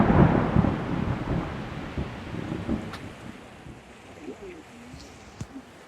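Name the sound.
thunderstorm with hard rain and strong wind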